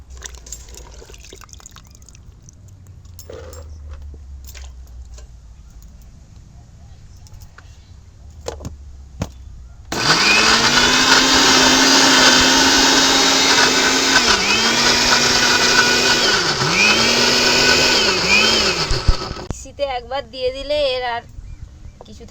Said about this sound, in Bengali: এবার মিক্সিতে গ্রাইন্ড করে নেবো